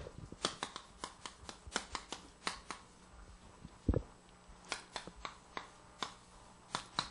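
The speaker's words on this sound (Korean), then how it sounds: "그래서 제가 한자로 한번 써볼게요." Chinese characters written by hand during a Korean church sermon, heard as faint, scattered scratchy pen or chalk strokes at an uneven pace, with one louder knock partway through.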